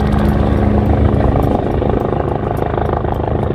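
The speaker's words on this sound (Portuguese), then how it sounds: "Olha que helicóptero top" A helicopter passes close and loud at an airport, its rotor chopping in a rapid pulse over a heavy engine roar; no voices are heard.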